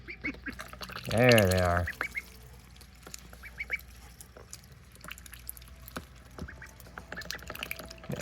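Baby ducks peep and quack in short, scattered chirps throughout, with one loud honking call near the start and a few words spoken nearby.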